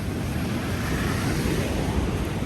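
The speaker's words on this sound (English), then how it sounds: "The sound of those waves is crazy." Ocean waves break continuously on a Moroccan beach near Sidi Ifni, a dense, rumbling roar with wind buffeting the microphone and no talking.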